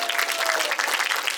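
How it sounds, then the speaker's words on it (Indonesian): Audience applause at a school competition awards ceremony on stage, a steady dense wash of clapping that runs the whole moment without a break. "Tepuk tangannya mana?"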